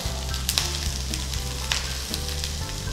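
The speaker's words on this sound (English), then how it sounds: "now we are taking a tablespoon of ghee. So slide in onion. We'll be slightly roasting the onions here." Sliced onions roast in a tablespoon of ghee, giving a steady, crackling sizzle close by, broken by a few sharp stirring clicks, with a low hum running underneath and no voices.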